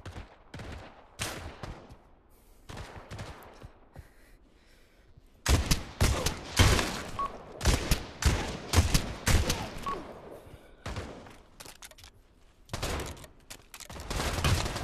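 Gunfire in the Pavlov VR shooter game, with a sparse stretch of scattered shots giving way to a dense, loud burst of rapid overlapping blasts, some close and punchy, others trailing off farther away.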